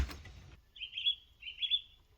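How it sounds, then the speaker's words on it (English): Pukeko with their young give two bright, piercing calls, each about half a second long, clear against quiet outdoor background after a brief rustle. "Pukeko with their young."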